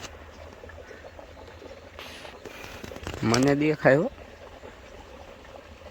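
Water falls into a tank with a continuous splashing, bubbling rush heard at moderate distance, and someone talks briefly over it midway.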